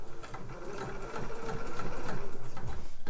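A sewing machine runs a straight stitch through fabric attaching a slipper boot sole, its fast rhythmic needle chatter steady and close, with no talking.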